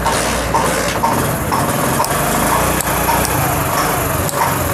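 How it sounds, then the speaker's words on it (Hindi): Motorcycle engine idling after being started during ignition switch wiring, a close, loud, steady buzzing putter that runs without a break and has no talking over it. "तो बाइक दोस्तों हमारी यहाँ पे देखें स्टार्ट हो चुकी है, ये इंजन स्टार्ट है हमारा"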